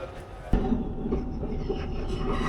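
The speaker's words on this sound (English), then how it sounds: "There goes the westbound service, just left." A westbound passenger train departs Merredin station in Western Australia, rumbling and rattling nearby, with a sharp clank near the start, then steady low rolling noise of rail cars moving off.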